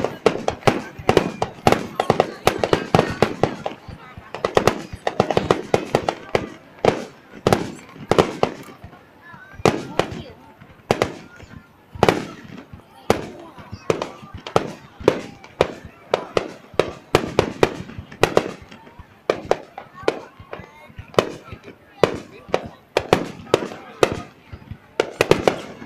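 Fireworks being set off, dozens of sharp bangs and crackling bursts popping in rapid irregular succession for nearly half a minute, loud and close, with people talking in between.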